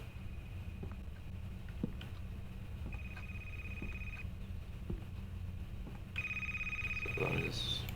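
A telephone in a video game rings with two long electronic tones separated by a pause, clear over a low background hum, ending in a brief clatter as it is answered.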